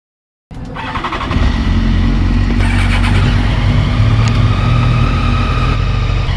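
A Yamaha R6 sport bike at Circuit de Folembray, its engine starting abruptly and quickly building to a loud, sustained high-revving roar close to the microphone.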